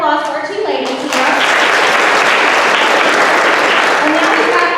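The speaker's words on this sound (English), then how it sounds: "So I just want more round of applause for our two ladies here." An audience at a county school board meeting breaks into sustained, loud applause for two honorees, steady and dense after a brief moment of a speaking voice at the start.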